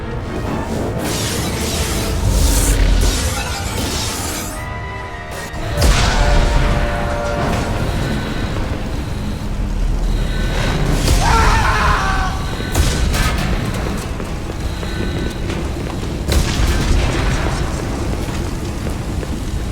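Loud booming explosions and rumbling blasts tear through a spaceship hull in the Mass Effect 2 game, with crackling bursts, alarms and debris over a dense, continuous roar.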